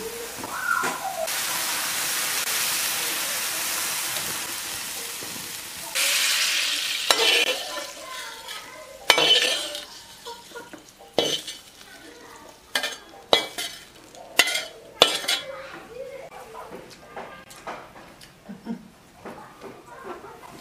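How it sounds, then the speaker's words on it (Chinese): Beef noodles being stirred in a pot: a sizzling, steamy hiss at first, then a run of sharp scraping clinks and knocks from the utensil against the pot, uneven and close. "现在要搅拌一下，搅拌均匀来"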